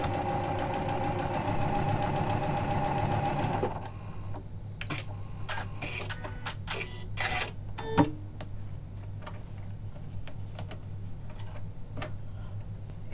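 A Janome sewing machine with a 9mm lap-seam foot stitches fabric strips in a steady, close mechanical whir for a few seconds. It then stops, leaving a low hum and scattered light clicks and handling taps.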